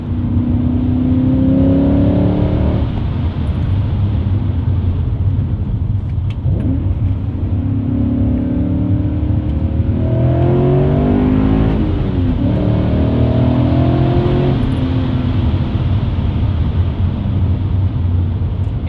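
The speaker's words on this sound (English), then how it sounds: "I'll take that V8 exhaust note any day" BMW E39 M5 V8 with a muffler delete driven on a track, heard from inside the cabin: a loud, steady engine drone rising and falling through several revving pulls as it runs through turns.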